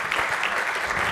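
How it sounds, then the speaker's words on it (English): An audience at a security conference gives a short burst of steady, dense applause for a hardware-hacking presenter, and no voices are heard over it. "If you can all give him a round of applause."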